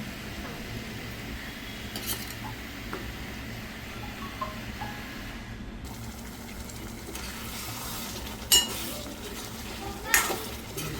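A spoon stirs mutton curry with boiled pieces in a pot, making soft scraping and clinking against the metal over a faint sizzle, with two sharper knocks near the end.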